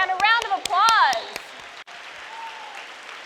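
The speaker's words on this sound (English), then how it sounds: "And a round of applause." A scattering of sharp claps mixed with loud, wavering cheers and whoops at a middle school graduation, then a quick fade into a quieter room.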